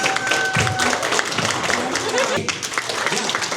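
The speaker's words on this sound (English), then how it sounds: "Let's give a round of applause, all right?" Audience round of applause at a game show: steady clapping and crowd noise throughout, fairly loud, with a voice talking over it.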